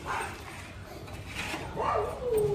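A Labrador mix female dog gives short, yelping barks and whines, a brief burst near the start and a louder, more insistent run toward the end, fairly close and heard alone.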